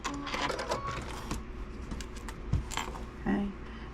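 A long-arm sewing machine stitches down the binding on a baby quilt, a steady close mechanical whir with small clicks and a brief thump near the end, no talking.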